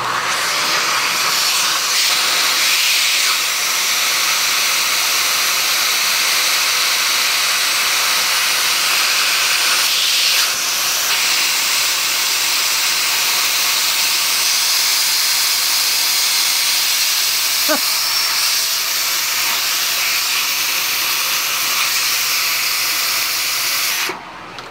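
A Dyson vacuum cleaner pulls air out of a storage bag packed with jackets, giving a loud, steady rushing whine with airy hiss that holds continuously for nearly the whole stretch before cutting off at the end.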